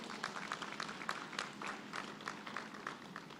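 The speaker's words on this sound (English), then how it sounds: "let's give them a warm round of applause" An audience at a university Founder's Day convocation claps in a fairly quiet, slightly uneven patter that holds steady throughout the short stretch.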